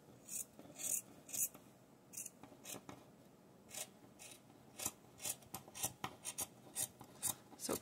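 Scissors cut around cotton lining fabric for a crocheted granny-square belt pouch, giving a close series of crisp snips and slicing rasps in an uneven rhythm with no talking.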